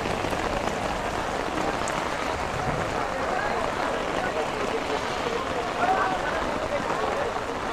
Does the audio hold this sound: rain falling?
yes